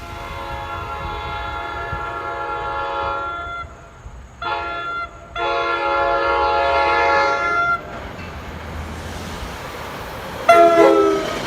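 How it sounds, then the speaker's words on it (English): A Nathan K5LA horn on a New Jersey Transit Comet 5 cab car in Train Sim World 2 sounds as a loud, sustained multi-tone chord in several long blasts with brief gaps, over steady rail rumble, ending with a faint ring from a steel bell. "The Comet 5 cab car uses a Nathan K5LA and a steel bell."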